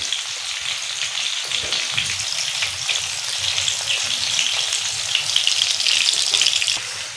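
Tawa fish sizzles steadily on a hot griddle with masala coating, a dense, continuous frying hiss with faint crackles that holds close and even throughout, growing slightly louder toward the end.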